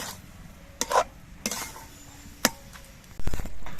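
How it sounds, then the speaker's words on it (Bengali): Leafy bete greens mixed by hand with salt and turmeric powder: scattered soft rustles, squelches and light taps close by, in short irregular bursts with quiet gaps, ending in a denser rustling stretch. "এবার শাকটা নিয়ে রেখে নুন হলুদের সঙ্গে বেশ ভালো করে মিশিয়ে নিতে হবে"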